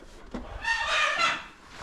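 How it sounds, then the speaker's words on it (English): Chickens on a farm make a brief crowing and clucking call, faint and somewhat distant, lasting about a second. "Don't mind the chickens."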